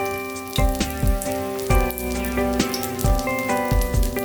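Bombay duck fish in egg batter frying in hot oil, a steady, crackling sizzle with brisk popping spatters, close and loud, over a sustained tonal music bed.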